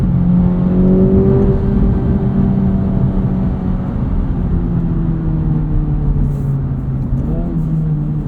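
A 2024 Acura Integra Type S engine hums steadily from inside the cabin while driving, a close, even drone whose pitch drifts gently up and down with the throttle.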